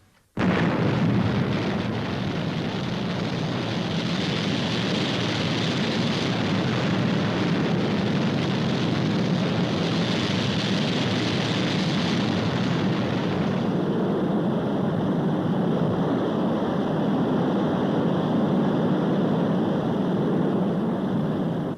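Roaring rocket engine ignition and liftoff of Fireball XL5 in the puppet science-fiction series, a dense continuous blast that stays loud and steady throughout, shifting slightly in tone midway.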